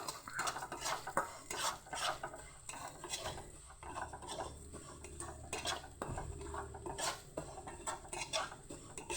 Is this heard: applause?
no